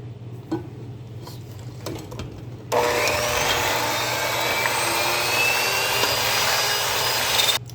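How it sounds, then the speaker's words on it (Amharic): Vanilla cake batter being mixed with a loud electric mixer that starts abruptly partway through and runs steadily at close range, after a quieter stretch of faint handling sounds. "ይኸው እንደዚህ አቀላቅየዋለሁ።"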